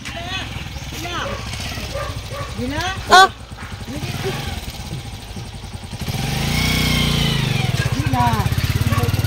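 A motorcycle engine rumbles nearby and grows louder toward the end, with dogs barking and people talking throughout.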